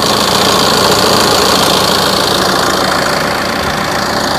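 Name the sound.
Tata Aria 2.2 turbo diesel engine idling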